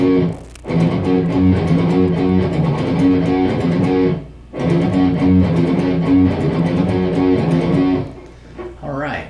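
Electric guitar plays an intro riff, a loud, distorted, chugging line in repeated phrases broken by two brief pauses, close and alone.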